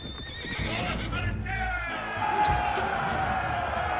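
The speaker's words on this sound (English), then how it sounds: "faced an immediate attack by Robert's cavalry patrol" Cavalry horses in the Age of Empires IV Normans campaign whinny and neigh amid clip-clopping hooves and battle noise, close and loud, while a narrator speaks over them.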